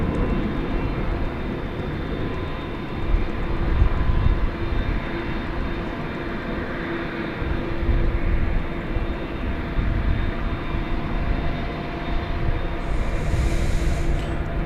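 An airliner bound for Brisbane roars on departure at DFW Airport at night, a steady broad engine rumble holding throughout with no voices over it.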